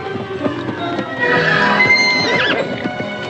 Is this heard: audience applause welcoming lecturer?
no